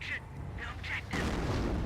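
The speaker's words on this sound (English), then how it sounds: "good mortar hit there" A mortar shell strike in Company of Heroes: a heavy rumbling impact bursts in after a second of quieter battle noise and faint voice-like tones, then holds as a loud, broad roar.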